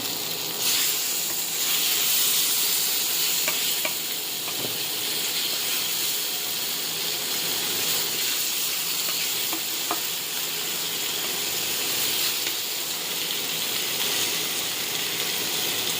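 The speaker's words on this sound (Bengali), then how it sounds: "ভাজা মাছ নামালাম, এদিকে আরও কয়েকটা গড়াই মাছ দিয়ে দিলাম।" Gorai fish frying in hot oil give a loud, continuous sizzle and hiss throughout, with a few faint clicks of a utensil against the pan.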